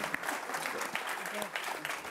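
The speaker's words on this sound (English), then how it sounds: "a big round of applause" Audience applause at a Florida Priorities event, a continuous patter of clapping with some crowd voices and talk mixed in throughout.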